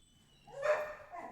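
A puppy gives a short bark or yelp partway through, moderately loud against a quiet room, then a fainter trailing whine.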